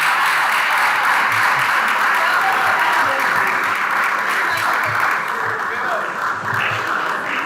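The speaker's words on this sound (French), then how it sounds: "que nous vous demandons d'applaudir" A hall audience at a faculty of medicine closing ceremony applauds a photographer, a loud, sustained wall of clapping with a faint voice briefly beneath it.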